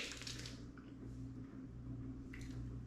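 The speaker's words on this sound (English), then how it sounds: "I'm going to rub my fingers together." Wet, soapy fingers rubbed together to work up shaving soap lather, giving soft squishy, slippery sounds close by and quiet, with brief wetter bursts at the start and near the end.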